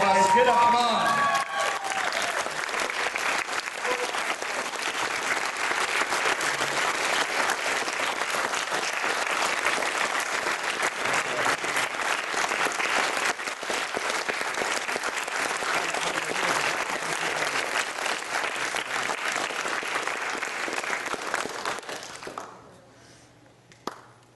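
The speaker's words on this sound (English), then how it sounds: "So come on, everyone, get up and give her a big round of applause." An audience rises to its feet and applauds, a sustained wash of dense clapping and crowd noise lasting over twenty seconds before fading out abruptly near the end, with faint voices mixed in.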